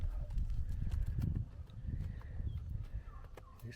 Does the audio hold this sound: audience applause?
no